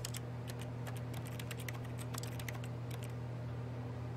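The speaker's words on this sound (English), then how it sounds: "Sounds like I'm typing on keyboard." Rapid, irregular keyboard typing clicks from the video game The Stanley Parable, steady and close over a constant low electrical hum, with no one talking.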